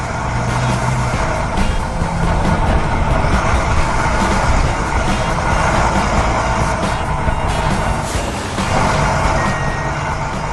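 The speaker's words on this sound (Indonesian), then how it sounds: "Ekskavator mulai beraksi. Ia mengeruk puing-puing itu dan memindahkannya ke dalam truk sampah dengan sangat rapi." An animated excavator scoops debris into a dump truck on a construction site for a skatepark. Steady, loud mechanical rumble and clatter run throughout, with reversing-style beeps on top and no voices.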